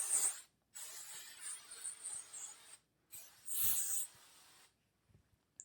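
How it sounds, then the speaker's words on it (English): Hairspray from an aerosol can hisses onto hair in two main bursts, the first longer and steady, the second shorter and louder, with faint light rustling between and after, close by. "spray it with hairspray, just so that my hair is more concentrated"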